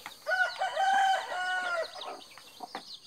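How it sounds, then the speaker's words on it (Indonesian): A large, tame chicken in a wooded mountain area near Kebumen lets out a drawn-out crow mixed with clucks, fairly quiet and alone against light background noise. "Tahu kalau di sini jenis ayam apa gitu."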